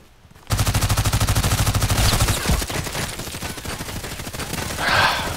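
Rapid automatic gunfire from a gun in the shooter game Contract Wars, a loud continuous burst of evenly spaced shots that runs for about two seconds, then continues more unevenly alongside other battle noise.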